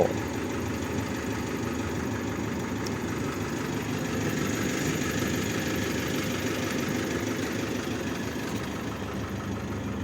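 A 2013 Toyota Vigo Champ 2.5 turbo diesel pickup idles steadily with a close, constant rumble and a slight knocking clatter, and nobody speaks.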